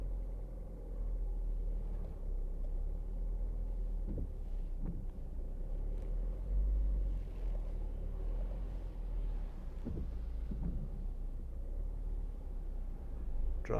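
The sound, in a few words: 2014 Ford Focus reversing with automatic parking assist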